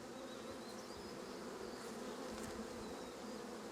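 Honeybees drone steadily from an open hive during an inspection, a continuous dense buzz of many insects with no break, fairly faint and without voices.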